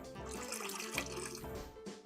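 Water is poured into blackberry mash while making blackberry wine, a short close splashing and gurgling trickle.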